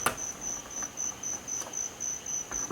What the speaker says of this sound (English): Those are little frogs that you can hear out there.